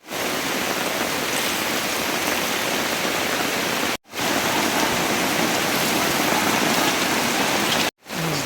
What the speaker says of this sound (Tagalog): Ayun na nga, biglang bumuhos ang ulan